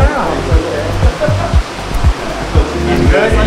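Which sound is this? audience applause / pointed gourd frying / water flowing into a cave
water flowing into a cave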